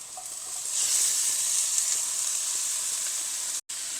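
Onions sizzle as they fry in a pan, a bright, steady hiss rising after a quiet start and holding evenly, briefly cut off near the end, with no voices.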